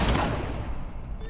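A single Expulso spell blast in the game Hogwarts Legacy, one loud explosive burst at the start that rumbles and decays over about a second.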